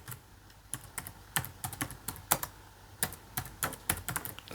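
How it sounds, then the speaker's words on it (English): Quick, irregular taps of fingers typing on a computer keyboard, crisp close clicks in short bursts with small gaps, alone and fairly quiet. "Here what I'm going to do is I'm going to type"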